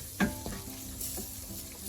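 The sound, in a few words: frying spices with degi mirch in pan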